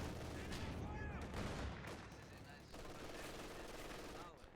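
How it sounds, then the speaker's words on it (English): MG42 machine gun firing in a WWII strategy video game, rapid sustained bursts rattling against sandbags amid other battlefield gunfire, loud and continuous across the clip. "we've got MG42 firing upon the sandbags"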